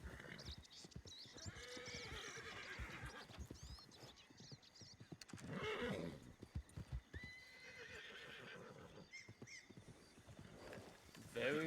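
A Shire horse in the video game Outrider RP neighs and whinnies several times between sharp, close clip-clopping hooves, while a person talks over the sounds.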